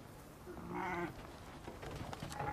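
Sheep being driven up into the mountains give a couple of faint, distant bleats over quiet outdoor background noise.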